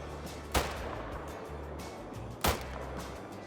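Two sharp SKS rifle shots in the Call of the Wild hunting game, about two seconds apart, each a loud crack with a brief tail over a low ambient hum.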